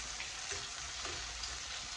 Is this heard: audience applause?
no